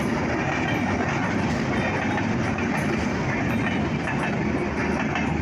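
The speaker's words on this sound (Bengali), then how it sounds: "তো এই তো চলে গেল ট্রেন" An intercity train of about fourteen coaches passing through Panchbibi railway station in Bangladesh, a loud, close, continuous roar of rolling wheels with faint rhythmic clatter and no talking.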